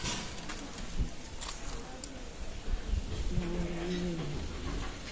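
Pakistani teddy pigeons at a loft give a soft, low coo or two, faint beneath steady background hiss and scattered small noises.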